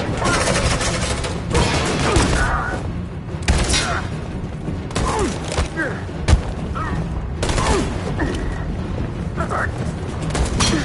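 Gunfire in Detroit: Become Human, with dense bursts of shots and booms crackling through a loud, busy battle mix, under shouting voices.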